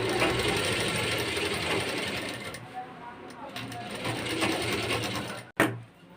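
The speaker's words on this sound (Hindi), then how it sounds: "मिलाकर हम सिलाई चला देंगे।" Sewing machine stitching the shoulder seam of a lined blouse, front and back panels joined, a steady mechanical whir running close and loud before stopping abruptly near the end with a brief clack.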